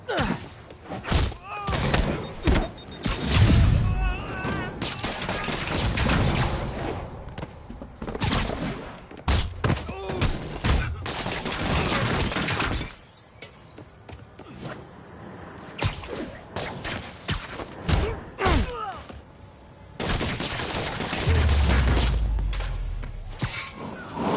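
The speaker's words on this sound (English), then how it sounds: "Rocket launchers?" Rocket launcher fire and explosions in Marvel's Spider-Man video game: dense bursts of booms, thuds and impacts rattle on and off throughout, with voices talking amid the chaos.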